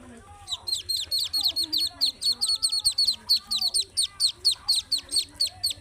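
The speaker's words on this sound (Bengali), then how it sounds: "দেখুন আমি কত সুন্দর 5টা বাচ্চা চীনা হাঁসের বাচ্চা" Five Chinese duck ducklings peep in a rapid, steady run of high, close chirps that continue throughout, with a soft low hum running underneath.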